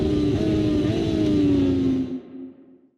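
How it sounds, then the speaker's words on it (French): A Moto2 racing motorcycle gives quick throttle blips from its auto-blipper on the downshift, rising and falling engine tones up close before fading away. "Mais au rétrogradage, le blipper va ordonner un petit coup de gaz."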